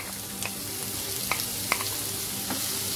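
Chopped onions fry in a pan with sautéed ginger and garlic, a steady close sizzle broken by a few soft stirring scrapes, with no voices.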